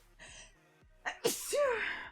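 A woman sneezes once, loudly and up close, with a sharp breathy intake building into the burst, followed by a brief voiced trailing sound.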